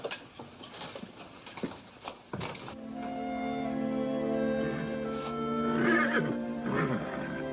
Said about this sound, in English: Something's scaring the horses.